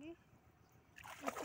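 Water splashes as a person wades into a cold irrigation canal in the morning, a brief burst of sloshing near the end after a quiet stretch with someone talking.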